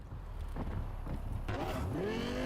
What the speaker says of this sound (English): I like the changes to the sounds of the car.